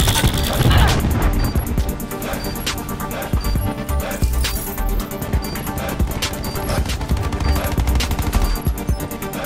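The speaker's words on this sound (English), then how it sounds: "Cluster grenade." Cluster grenade explosions in Black Ops 4 during a search-and-destroy round, a rapid chain of loud blasts and gunfire-like bursts, dense and close throughout.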